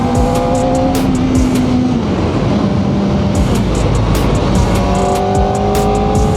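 Kawasaki Ninja ZX-4RR 400 cc four-cylinder sport motorcycle accelerating hard on the road, loud high revving engine whine climbing through gears with shift breaks, heard close with wind noise.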